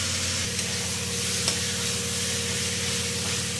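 Chopped capsicum and tomato fry in a pan with a continuous, even sizzle and hiss, close and steady, with no talking.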